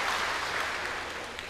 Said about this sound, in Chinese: 谢谢，谢谢的掌声